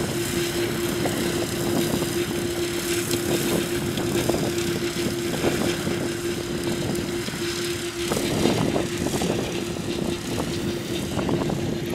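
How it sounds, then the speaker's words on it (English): A big tractor with its wheels spread wide for crop rows mows a cotton field near Tunica, Mississippi, its engine giving a steady, even drone with a low hum that runs throughout without talk. "Big old tractor. Look at the wheels spread for the rows on that thing."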